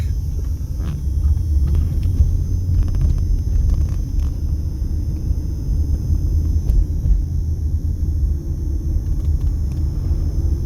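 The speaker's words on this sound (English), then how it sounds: "Wait for this truck." A truck drives along a street outside the Las Vegas Strip as a loud, continuous low rumble that holds steady throughout.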